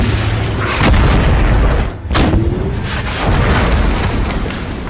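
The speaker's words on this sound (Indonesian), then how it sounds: "mereka menguji tank baru tersebut dengan menembak target" A tank cannon in a World War II film about the White Tiger tank fires at a target: two loud booming blasts about a second apart stand over a heavy, rumbling background.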